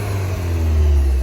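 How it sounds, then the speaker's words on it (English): Idling four-cylinder turbo engine of a 2020 Cadillac CT4 V Series gives a steady low rumble with a faint whine above it, close and loud throughout the short moment, no one talking. "Damn, I heard the turbo."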